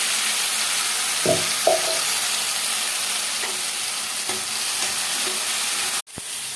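Tomato paste sizzles quietly in a pan, a steady hiss with a few soft taps from stirring and a sharp clack near the end.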